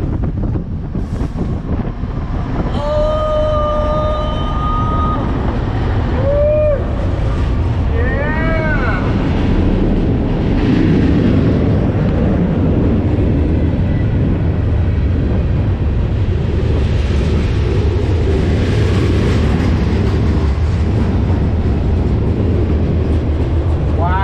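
A train arrives through an underground cave, a loud rumbling roar echoing off rock with squealing, whistling tones and metallic screeches early on, then a sustained heavy rumble as it passes.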